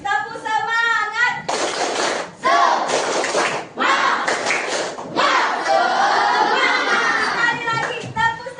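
A class of schoolchildren performs a rhythmic cheer clap, with patterned bursts of group clapping mixed into loud chanting voices in a classroom.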